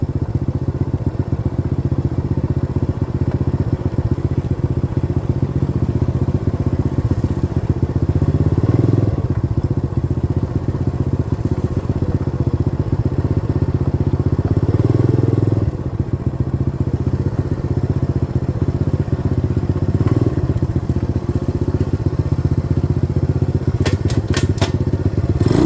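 A 90cc dirt bike ridden home on wet roads, its small engine droning steadily and loudly throughout, with slight shifts in pitch and a few thumps and clatters along the way.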